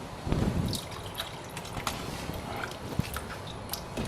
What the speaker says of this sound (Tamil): ஸோ தண்ணி இன்னும் சேர்க்கணுங்க.